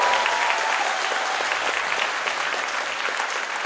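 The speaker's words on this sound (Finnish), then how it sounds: "Toisko pienen aplodin paikka meillekin?" An audience applauds a rock band at a summer festival in Heinola, a dense and steady wash of clapping that holds at an even level throughout.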